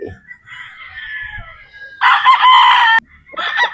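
A Boston Roundhead gamefowl rooster crows loudly and close, a full crow followed by the start of another, with soft background sounds between.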